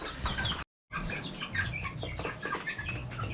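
Three-week-old chicks peep and chirp constantly in a dense chorus at close range, the chatter cut by a brief gap of silence partway through.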